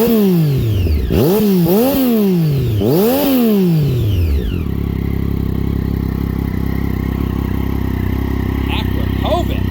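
2009 Triumph Daytona 675 with an Akrapovic exhaust, loud engine revving up and down in repeated rising and falling sweeps, then settling into a steady, buzzy idle.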